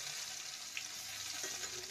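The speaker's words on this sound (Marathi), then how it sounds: "तेल गरम केले मी. त्यात मोहरी टाकली. मोहरी तडतडली." Mustard seeds and cumin spluttering in hot oil in a kadhai for a capsicum curry, heard as a faint, steady sizzling hiss with a few soft pops and no voices.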